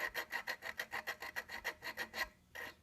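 Lapping an engine valve on a 1954 Briggs & Stratton 5S: rapid rhythmic gritty rasping strokes, about a dozen back-and-forth grinds at a steady pace, close and fairly quiet, briefly pausing before resuming.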